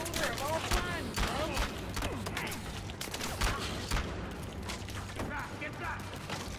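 Rapid video game gunfire crackles in bursts of shots amid dense mixed game noise, with players talking over the action throughout.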